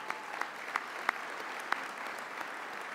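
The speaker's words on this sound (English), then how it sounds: "Round of applause." Audience applause at a charity breakfast event, a soft, distant patter of clapping with a few sharper claps standing out, fairly faint and steady.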